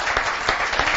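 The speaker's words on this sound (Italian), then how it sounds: "fategli un applauso" Brief applause from a small crowd at a youth cycling race, with a few distinct louder claps standing out over a steady background patter.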